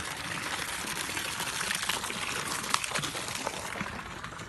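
Steady water pours and splashes into a tilapia pond in a vegetable and fruit garden, a continuous rushing wash with small bright splashes, heard close.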